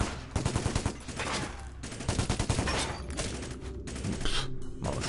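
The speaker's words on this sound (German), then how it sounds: "Da schießt jemand." Rapid automatic gunfire in the PC shooter Epsilon, bursts of loud shots clustered in volleys with short pauses between, close and dense.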